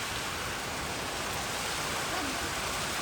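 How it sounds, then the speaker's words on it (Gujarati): Heavy rain pours steadily in a dense, even hiss that fills the whole moment, loud and unbroken, with no voices standing out. "જોરદાર વરસાદ આવે છે"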